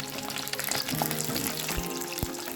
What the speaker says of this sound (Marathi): आता आपण जी पांढरी वांगी कापून घेतलेली आहेत तर ती फ्राय करून घेणार आहोत